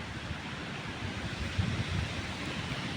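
Strong wind buffets the microphone outdoors in a forest during chanterelle mushroom picking, a loud, steady rushing roar with low gusty rumbles swelling midway and no talk.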